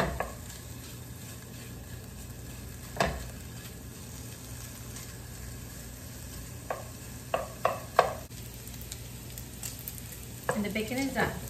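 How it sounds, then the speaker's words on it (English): Bacon fries over medium heat, rendering fat with a soft steady sizzle, punctuated by a handful of sharper pan and utensil clicks toward the end, close by, with no voices. "the bacon is gonna render a lot of fat"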